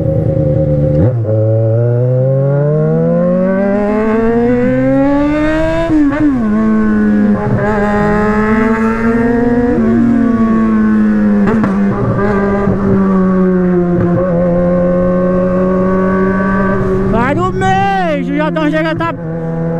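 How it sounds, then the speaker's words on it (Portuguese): A car fitted with a 4-inch exhaust revs loudly and close, its droning engine note holding and then sliding up and down, with sharper bursts near the end. "Chega tá pipocando escape, rapaziada."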